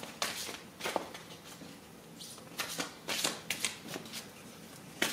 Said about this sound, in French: Alors je vais prendre une dernière carte du pouvoir de l'amour.